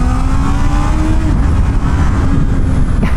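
Honda CB650R motorcycle engine accelerating, a loud continuous roar with a rising tone that shifts as it climbs, heavy low rumble and wind noise throughout, with no talking.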